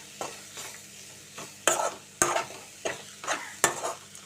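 Amaranth leaves (thotakura) fry in a pan with coriander powder, a steady sizzle broken by about eight rhythmic scraping stirs of the spoon, close and clear.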